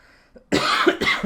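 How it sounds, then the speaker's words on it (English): A single close, loud cough bursts out after a brief quiet moment, harsh and breathy with a second push at the end. "I apologize for coughing in everyone's ear"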